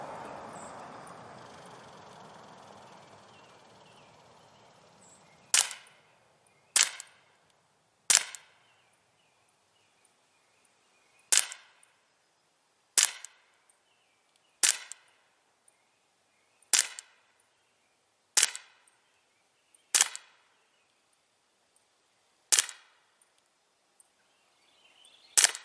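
Daisy Winchester M11 air pistol fired from about 15 feet, with about ten sharp, separate snapping shots spaced a second or two apart after a quiet start, no voices.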